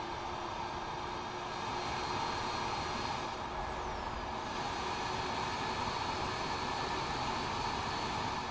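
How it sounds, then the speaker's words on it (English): Steady, dense roar of MD-11 Pratt & Whitney jet engines in a flight simulator, a constant broadband rumble and hiss with a faint tonal whine, holding level throughout with no voices. "The Pratt & Whitneys are terrible."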